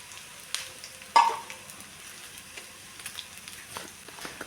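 Mustard seeds crackle and sizzle in hot oil with ginger and garlic for a tempering meant for a Kerala thaal or moru curry, a steady fry punctuated by a sharp pop near the one-second mark, with no voices.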